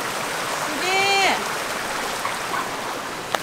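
Mountain stream swollen by heavy rain rushes steadily with a broad hiss of flowing water, while a voice briefly speaks over it.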